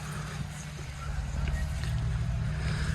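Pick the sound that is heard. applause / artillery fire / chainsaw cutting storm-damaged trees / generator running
generator running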